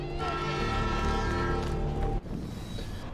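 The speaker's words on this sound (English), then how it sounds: "The train's coming!" A train approaching in the video game Life is Strange, a loud sustained horn blaring over rumbling rail noise that cuts off abruptly near the end, leaving a lower rumble.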